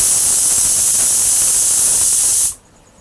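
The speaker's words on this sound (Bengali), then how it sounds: "কুকারে তো অনেকগুলো সিটি পড়েছে" A pressure cooker whistle blasts a loud, continuous hiss of escaping steam, then cuts off abruptly, leaving faint background quiet.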